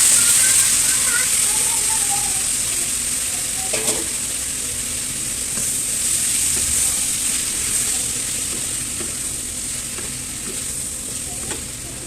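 Eggplant and potato frying with spices, chopped green chilli, turmeric and chilli powder in a pan, a continuous bright hiss of oil with occasional stirring clinks, fading slightly over time, while someone talks.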